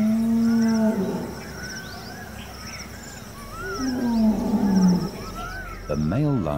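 A wild lion roars in the open, low drawn-out calls carrying over the area, heard with a narrator talking over them.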